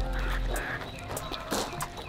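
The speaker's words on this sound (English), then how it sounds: "And we got some chickens over here." Chickens clucking and squawking in short bursts at close range, with rustling and some background noise around them.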